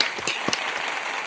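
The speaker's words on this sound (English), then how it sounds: "let's give him a round of applause" An audience claps in a short burst of applause at a talent and jobs event, a scattered wash of hand claps at moderate level with no voices over it.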